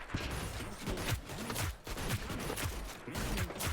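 Rapid bursts of gunfire from the shooter game Hyper Scape crackle in quick, uneven volleys, loud and close, with short gaps between strings of shots.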